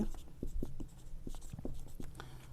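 Pen scratching on paper as a math problem is written out, short strokes in a quick irregular rhythm, close and moderately loud, with someone talking over it.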